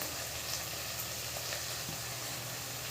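Country chicken fries in oil with ginger, turmeric, coriander powder and chili powder, a steady close hiss and crackle of sizzling with no talk.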